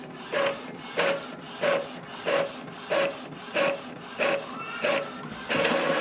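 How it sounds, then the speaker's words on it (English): Epson EcoTank ET-2400 inkjet printer copying a black page, its print head shuttling back and forth in a steady series of about nine short, evenly spaced whirring rasps, close and fairly quiet. "Wait for the printer."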